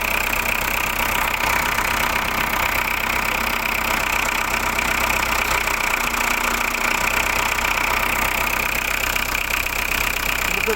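A diesel car engine idles roughly and loudly with a fault, a steady clattering drone holding at one level throughout with no pauses.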